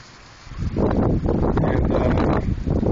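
Strong gusting wind sweeps through an outdoor pumpkin patch during a heavy thunderstorm with serious rain. The wind roars broadband and loud for nearly the whole stretch, rising after a quieter start, with no voices.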